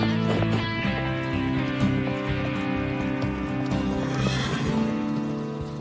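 A horse whinnies loudly over a busy, continuous din of other sounds, the neigh rising and trailing off near the end, in a TV drama.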